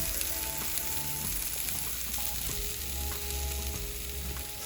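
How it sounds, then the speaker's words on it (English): Greens sautéing in a pan for a healthy breakfast, a dense, continuous close sizzle with faint background hum and no voices. "here are the greens. They're cooking up very nicely."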